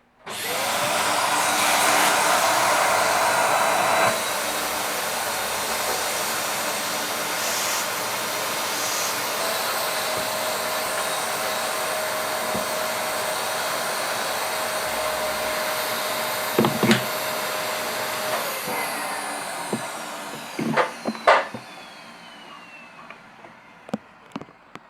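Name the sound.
Dyson vacuum cleaner hoovering out a motorcycle fuel tank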